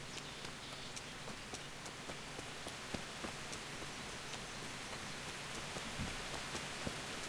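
Steady rain falling on a surface in the video game Kingdom Come: Deliverance, an even hiss with scattered drop taps, moderately quiet and continuous, with no voices.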